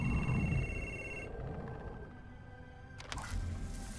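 A telephone rings in the video game Beyond: Two Souls, a faint electronic tone that holds steady, then stops, followed by a short click-like burst.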